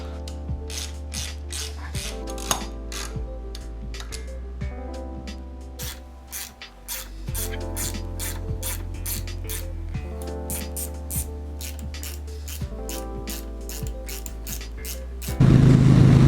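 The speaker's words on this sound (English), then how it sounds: "So these bolts need to come out." A hand ratchet backs bolts out of a Harley-Davidson Sportster while a crash bar is fitted, giving rapid, evenly spaced metallic clicks in long continuous runs, close and steady.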